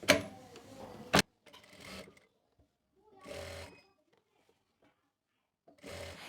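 Sewing machine stitching the belt seam of a Punjabi chakvi salwar, heard as several short separate runs of whirring and needle clatter with quiet pauses between them.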